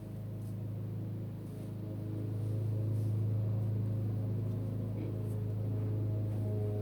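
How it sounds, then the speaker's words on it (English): Lawn mower running outside, a steady low droning engine hum with a faint buzzing overtone, continuous and muffled at moderate distance, swelling slightly louder midway with no talking over it. "My dad's mowing the lawn, so that's what that noise is"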